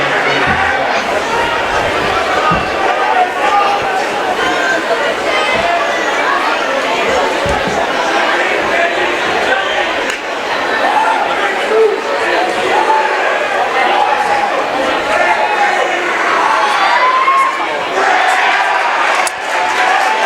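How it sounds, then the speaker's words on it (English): Crowd at a high school varsity boys' basketball game grumbling and chattering in a steady, dense murmur after a no-foul call, with scattered shouts, alongside a commentator speaking. "The crowd is not happy with that non-foul call."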